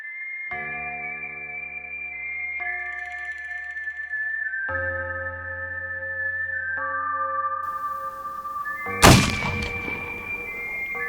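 A Sharps Hunter rifle fires larger dedicated bullets: one loud, sharp shot near the end, cutting through steady droning electronic tones that run throughout.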